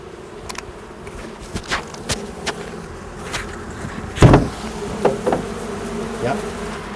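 Honey bees buzzing inside a bee vacuum box holding tens of thousands of bees after removal of a huge hive on the North Fork of Long Island: a steady close drone with scattered sharper knocks and thumps, no voices.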